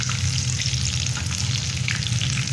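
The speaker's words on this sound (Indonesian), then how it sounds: "Ini kita gorengnya di api yang sedang aja ya" Curly banana fritters in batter frying in hot oil over medium heat, a loud, dense, continuous sizzle and crackle close up, with no voices.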